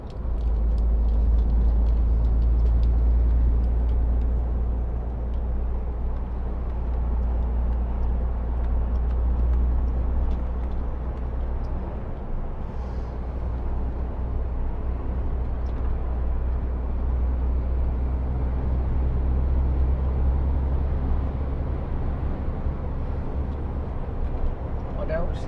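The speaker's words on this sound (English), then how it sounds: "Traffic slowing down once again." Steady road noise from inside a vehicle on a motorway as traffic slows, a continuous loud low rumble with faint brake-like hisses, while someone talks over it intermittently.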